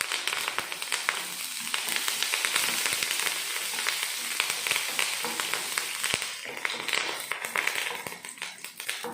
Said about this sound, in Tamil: தாளிப்பு ரெடி ஆயிடுச்சு